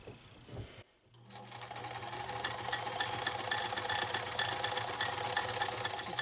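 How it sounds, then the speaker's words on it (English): A sewing machine top-stitching a cat collar close to the edge, running in a steady fast mechanical whir with a rhythmic needle clatter after a brief pause at the start. "I'm going to sew fairly close to the edge."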